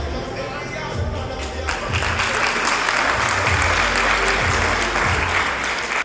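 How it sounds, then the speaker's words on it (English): Audience applause at the 63rd Independence Gala, starting moderate and swelling into full, sustained clapping from a large crowd, loud and close, with a few cheers. "So with that, I want to give you a little clap to show our appreciation."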